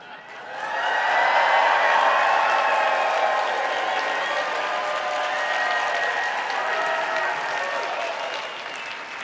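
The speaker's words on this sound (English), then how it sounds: "Would you guys do me a favor and just act like you're cheering?" A live audience breaks into sustained applause and cheering, swelling quickly after a quiet start and holding a dense, even clapping roar for several seconds.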